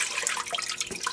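Home-canned apple cider pours from a jar into a pot, a bright splashing, gurgling trickle running steadily and close for about a second.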